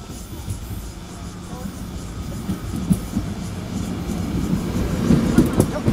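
A TEMU1000 Taroko express train pulls into Zhixue station with a low rumble that slowly builds and grows louder, while faint voices are heard nearby.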